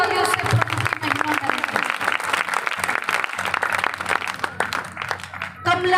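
Church attendees at a testimony service clap enthusiastically, the applause loud and sustained, with voices talking over it and a speaker coming in near the end.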